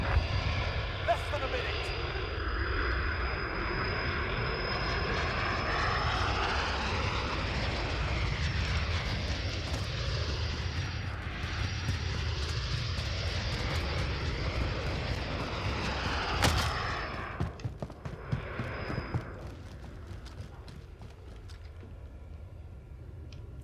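In a Modern Warfare Search and Destroy match, a VTOL aircraft drones overhead with a steady engine roar and high whine, gunfire cracking in between and a player talking over it.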